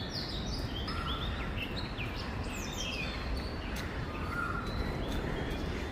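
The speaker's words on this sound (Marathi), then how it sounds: "कोकिळेचा आवाज पण इतका मस्त येतो." Asian koel and other birds calling outdoors on a morning walk, with repeated chirps and whistled calls scattered over a steady bed of distant ambient noise, no talk.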